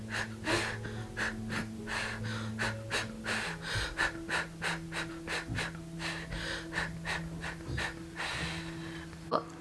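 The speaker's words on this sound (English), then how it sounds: "you'll breathe in" Someone takes a series of quick audible breaths in and out through the diaphragm, rhythmic and close, over a sustained background music bed, with no talking.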